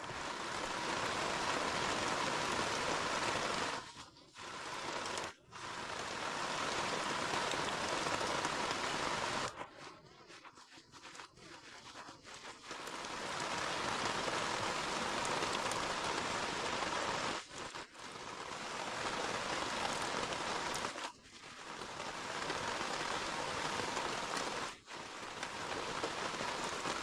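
Heavy rain pours down in a deep forest, a dense continuous hiss of drops on leaves and ground that briefly thins several times before resuming at full strength.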